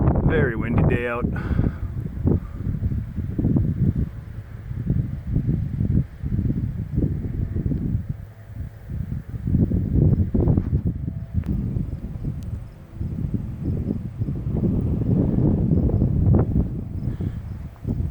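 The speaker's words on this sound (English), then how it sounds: "Very windy day out." Strong high wind buffeting the microphone outdoors beside a giant Holstein cow statue, a steady rumbling roar with gusting surges throughout the clip.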